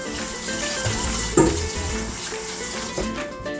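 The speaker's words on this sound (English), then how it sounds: "Put a little bit of water in there." Water poured from a container into a pot already holding baking soda while cooking, a brief splashing pour with a sharp spike in the middle, heard close and alone against a background hiss.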